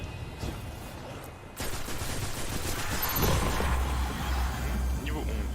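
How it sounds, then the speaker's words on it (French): A bright burst of game effects, a level-up cue in Destiny 2, rises over dense action noise and lasts several seconds. "c'est le son de la prise de niveau 5"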